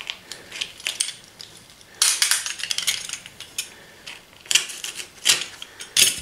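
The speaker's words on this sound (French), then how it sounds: "je vais venir couper" Sharp snipping and clicking cuts through material for an advent calendar cover, in irregular clusters of crisp, close snaps separated by short pauses.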